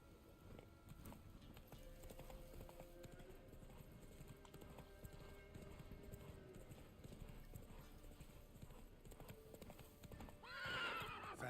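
Roach, a horse in The Witcher 3, gallops with steady continuous hoofbeats close by, then gives a loud neigh near the end.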